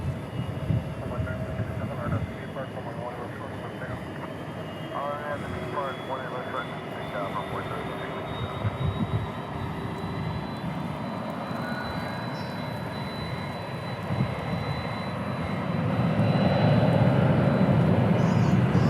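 An airplane departing DFW International Airport on a flight to Garden City, Kansas produces a steady low engine rumble beneath ongoing talk, swelling noticeably louder toward the end as it powers away.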